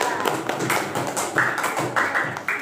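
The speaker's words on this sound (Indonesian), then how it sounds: "Tepuk tangan buat kelompok 2" Classroom of schoolchildren clapping for a student group, a steady patter of many small hands tapping quickly together, moderately loud and continuous with no talk.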